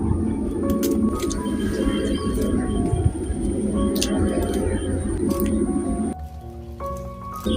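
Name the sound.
cutting the fins off bata fish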